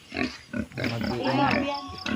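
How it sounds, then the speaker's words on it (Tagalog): Pig being raised for lechon at a family gathering in Samar, grunting in short bursts close by while people talk over and around it. "Ang baboy."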